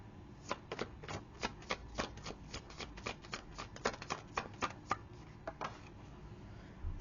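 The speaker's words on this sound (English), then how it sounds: "Oh, cut the deck. Gotta cut the deck." Tarot cards riffled and cut by hand, a quick run of crisp snapping flicks and slaps that fades out near the end, heard close and on its own with no talking.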